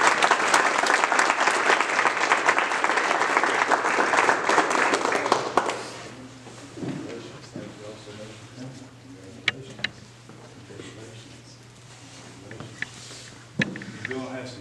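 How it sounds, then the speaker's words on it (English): Loud, dense applause from an audience at a county school board meeting fills the first several seconds, then cuts off and gives way to a few scattered claps and quieter speech. "Let's give them a round of applause."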